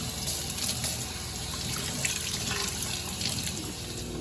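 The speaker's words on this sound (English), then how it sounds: "I'll do a quick rinse." Tap water runs steadily over garlic being rinsed, a continuous close splashing wash with no voices.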